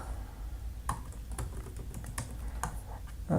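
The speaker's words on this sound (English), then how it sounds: "I'll just type command." Typing a command on a computer keyboard while installing Apache Airflow, a sparse run of quiet, close key taps spaced unevenly over a soft background hiss, with no talk.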